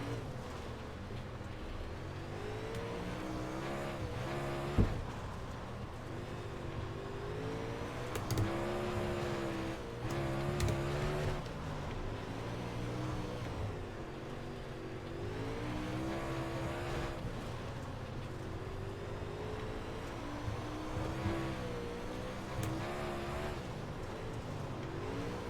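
Dirt late model race car engine droning steadily in the iRacing sim, with rising and falling revs through the laps and no talk over it.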